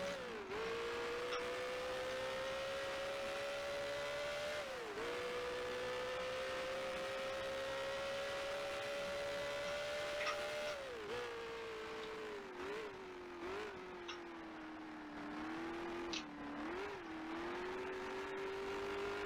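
A 1960s race car engine in Grand Prix Legends holds a strong, buzzing harmonic whine, rising through long pulls and dipping sharply with each gear change or lift, repeated steadily through several corners.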